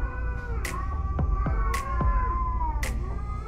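A cat meows several times in a loud, close, drawn-out way, three rising cries spaced over a few seconds with some short chirps between them, set against a steady low motor hum.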